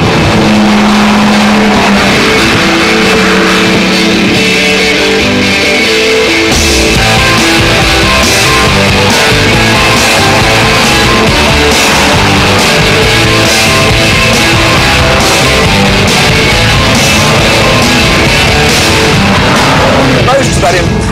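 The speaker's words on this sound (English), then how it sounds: "It produces 420 horsepower and will propel this 911 to 189 miles an hour" A Porsche 911 Turbo with a 420-horsepower engine drives at high speed with a loud, sustained engine drone and shifting tones, while someone narrates over it throughout.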